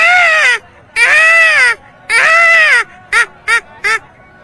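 A man vocally imitates a peacock call: three long, loud, wailing cries followed by three short, sharp yelps, close to the microphone and alone.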